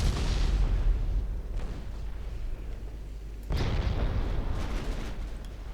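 Heavy cruiser naval guns fire in Ultimate Admiral Dreadnoughts, two deep booming salvos a couple of seconds apart, each with a rumbling tail, no talking.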